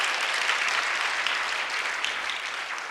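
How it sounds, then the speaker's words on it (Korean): A congregation claps warmly and steadily through a Sunday worship service at a Korean church, a dense, even wash of applause with no voices on top. "한번 뜨거운 박수 한번 쳐드릴까요?"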